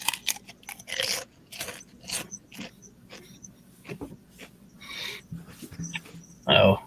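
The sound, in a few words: chewing and crunching Doritos chips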